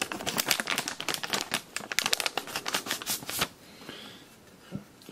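The case of a MacBook Pro laptop is handled and opened, a close flurry of clicks, taps and plastic rattles for about three seconds, then quieter rustling with a single soft knock.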